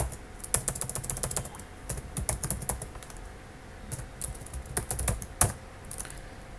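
Fingers type commands on a computer keyboard, a quick irregular patter of crisp key clicks in short bursts with brief pauses, close and clear with no voices.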